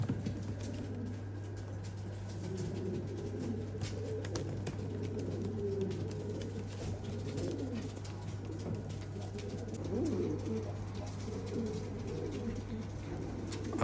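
Several show pigeons of a new breed coo steadily and softly at close range, their overlapping throaty calls continuing over a constant low hum for the whole stretch.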